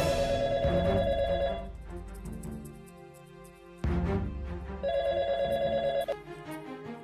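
A telephone bell rings in two long bursts of repeated trilling, loud and close, set among the sounds of a Hindi TV drama household scene.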